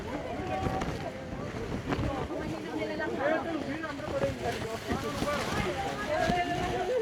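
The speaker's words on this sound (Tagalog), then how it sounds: "ang lakas ng hangin ah" Strong wind buffets the open deck on a boat ride in Vietnam, a constant rushing roar beneath nearby people talking over it.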